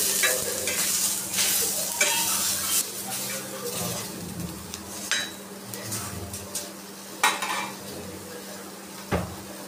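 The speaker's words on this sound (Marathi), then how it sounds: "तर आता टोमॅटो पण अशा प्रकारे एकदम हलकं असं फ्राय करून घ्यायचं आहे." Onion and tomato fry lightly in a pan, a soft steady sizzle broken by a spoon scraping and knocking against the metal, close up and without talk.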